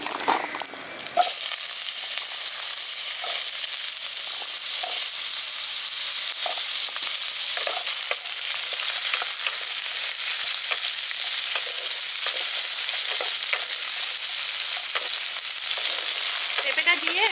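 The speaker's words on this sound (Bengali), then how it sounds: "এবার কেটে রাখা পেঁপেটা দিয়ে দিচ্ছি।" Cut papaya drops into a pan of hot oil with cumin and green chillies, setting off a sudden loud sizzle that holds as a steady frying hiss with scattered pops throughout, no voices over it.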